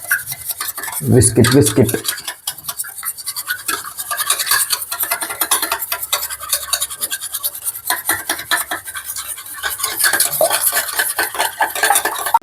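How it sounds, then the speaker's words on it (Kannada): A spoon scrapes and clinks against a bowl while egg manchurian ingredients are mixed, a loud, busy, continuous scraping with a brief spoken word partway through. "ನೆಕ್ಸ್ಟ್ ಸ್ಪೂನು ಇಲ್ಲಾಂದ್ರೆ ಈ ಥರದ್ದು ಏನಾದ್ರು ಇದ್ರೆ ತಗೊಳ್ಳಿ, ಚೆನ್ನಾಗಿ ಕಲ್ಸ್ಕೊಳ್ಳಿ"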